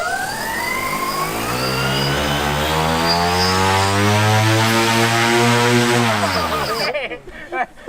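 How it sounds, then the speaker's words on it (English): A loud, steady droning of the propeller engines on a cardboard airplane, with a rising then falling pitch sweep, sustained for several seconds before cutting off abruptly. "All right, propellers work, engines on."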